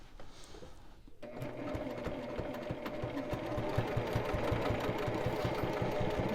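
A sewing machine bastes a glitter vinyl project bag, a close, steady run of rapid rhythmic stitching that continues without pause after a brief start.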